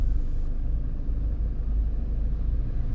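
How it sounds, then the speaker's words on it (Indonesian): A car engine pulls away on an uphill slope after the clutch is released, a steady low rumble with a slight rise in drive, close and continuous, no talking. "Langsung kita tekan gas sedikit agar mobil dapat berjalan kembali."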